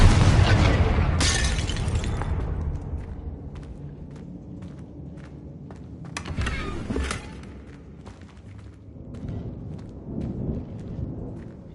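A Confringo fire spell exploding in a Harry Potter video game: a loud booming blast at the start, then further bursts and crackling impacts fading into a rumbling background.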